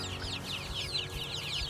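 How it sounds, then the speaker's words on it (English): Several chickens cluck and chatter continuously at close range, a soft busy flock sound with overlapping calls and no talking. "Let's go over with the chickens."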